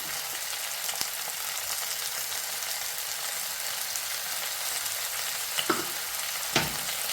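Chicken frying in a pan with ginger garlic paste and turmeric, giving a steady, close sizzle throughout with a few faint clinks of stirring and no talk.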